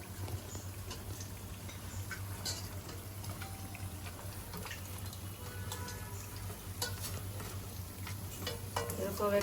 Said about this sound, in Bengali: এরকম একটু শব্দ হওয়া শুরু করে তখন ভাজাটা হয়